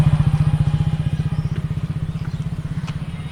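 A motorcycle ridden faster during riding practice, its engine note loud and close with a steady rapid pulsing throb that holds evenly and eases slightly toward the end.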